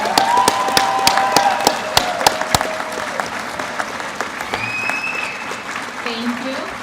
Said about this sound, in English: one more round of applause for all our undergraduates